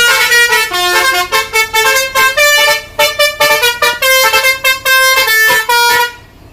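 Close and loud, a basuri vehicle horn fitted behind a windbreaker plays a rapid rhythmic series of musical honks stepping through several pitches, then falls silent at the end.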